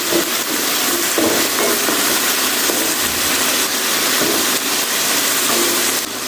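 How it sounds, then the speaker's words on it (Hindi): Capsicum (shimla mirch) with green chillies, salt and turmeric powder fries in a pan, making a steady, loud, close sizzle that hisses on without a break. "शिमला मिर्च तकरीबन फ्राई हो चुकी है थोड़ी सी"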